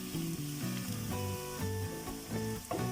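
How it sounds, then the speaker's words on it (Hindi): Onions fry in a pan until browning for a dal tadka, giving a constant close sizzle with soft crackling and the occasional light scrape. "प्याज थोड़े से ब्राउन होने देते हैं।"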